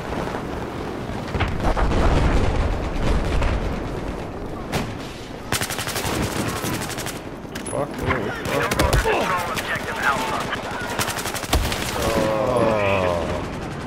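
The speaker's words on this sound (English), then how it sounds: "You've got like fucking four people shooting at you as well as the fucking two LAVs." Heavy gunfire and rumbling explosions in Battlefield combat against two LAV armored vehicles, dense overlapping bursts throughout with people shouting over the din.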